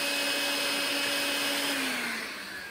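A vacuum sucks up drilling debris during a KRX EMP lightbar mount install, giving a loud, steady whining hum up close that starts to wind down at the end.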